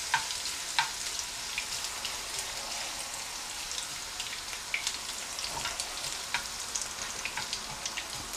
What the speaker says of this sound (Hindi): इसे 2 से 3 मिनट के लिए फ्राई करेंगे। अदरक का कलर थोड़ा सा चेंज हो जाए, सुनहरी सा हो जाए।